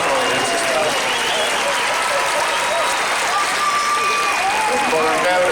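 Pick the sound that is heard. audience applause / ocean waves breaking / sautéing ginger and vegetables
audience applause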